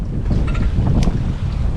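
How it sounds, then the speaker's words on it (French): Steady wind buffeting the microphone aboard a sailboat at sea in the Balearic Islands, with low rumble and water noise, continuous and loud throughout, no voices. "Comme prévu, il y a du vent."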